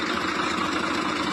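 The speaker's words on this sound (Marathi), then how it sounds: "हा माझा 855 ट्रॅक्टर" A model 855 tractor engine idles at close range, a steady, even diesel rumble that continues unbroken with no voices.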